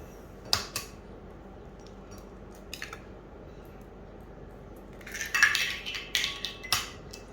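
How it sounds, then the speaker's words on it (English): Eggs are cracked and handled against a bowl while making rose cookie batter, giving a sharp tap near the start and a cluster of close, crisp clicks and clinks toward the end, with quiet pauses between. "first of all, we break the egg"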